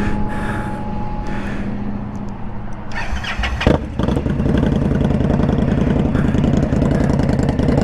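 A 2020 Indian Scout Bobber motorcycle cranks and fires up, then settles into a loud, steady, throbbing idle close by, with no talking.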